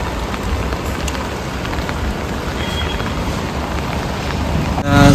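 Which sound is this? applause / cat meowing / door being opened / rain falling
rain falling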